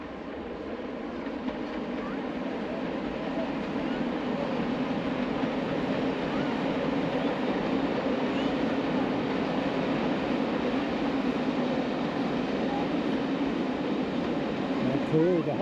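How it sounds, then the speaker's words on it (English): A vintage train built in the 1920s and known as the Hogwarts Express runs through Scotland, heard from inside as a constant low rumble and rattle, with faint voices underneath. "It's a bit of a vintage train."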